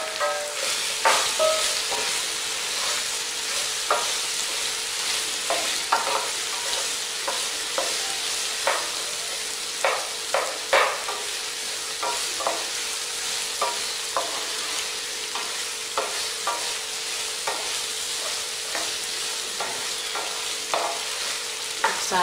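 Cut okra pieces frying in hot oil with a pinch of turmeric, a steady dense sizzle with frequent crackles and spatula scrapes, close and alone with no talking.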